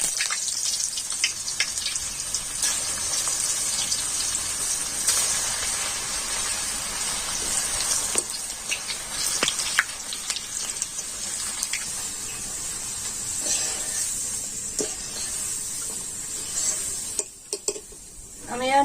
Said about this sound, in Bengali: তেলটা আমার খুব ভালো করে গরম হয়ে গেছে। এবারে আলুগুলো দিয়ে দেব।